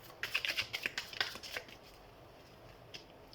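Zodiac guidance cards shuffled by hand, a quick burst of crisp riffling flicks for about a second and a half, then a single soft flick, close and quiet with no voices.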